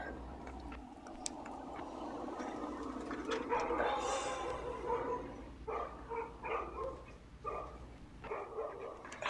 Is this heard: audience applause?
no